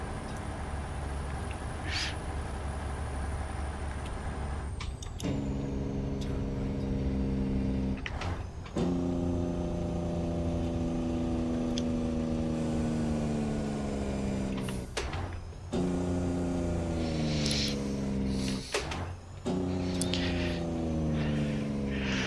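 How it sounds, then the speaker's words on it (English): A heavy truck in a truck-driving video game holds a steady, loud droning engine tone with a rattling engine-brake character. The pitch steps and shifts as the truck slows, with short breaks between stretches. "One thing I like about this truck is the sound of the Jake breakers."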